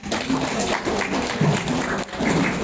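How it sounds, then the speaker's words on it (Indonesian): An audience at a school talk show applauds the singers with steady, dense clapping that fills the whole stretch at a loud level, with faint voices mixed in. "Boleh kita berikan tepuk tangan."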